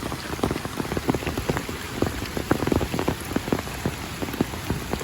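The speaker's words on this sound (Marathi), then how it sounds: "पाऊस भरपूर आहे गावी" Heavy monsoon rain falls in a Konkan village, drumming loudly and densely on surfaces nearby, with a constant patter of close, sharp drops spread evenly throughout and no voices.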